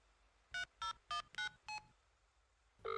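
A telephone number is dialed on a keypad as five crisp touch-tone beeps in a quick, evenly spaced run, then a pause and a steady tone starting, quiet and close.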